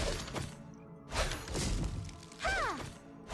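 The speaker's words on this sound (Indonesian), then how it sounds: "jika mark tersebut penuh maka Arley akan memberikan efek ledakan ke hero lawan yang ada marknya cuy" Layered game effects from the Honor of Kings hero Arli's mark-triggered explosion: dense crashing bursts and thuds around 0.2, 1.2 and 2.5 seconds, the last carrying a rising-falling whooshing sweep, with no talk.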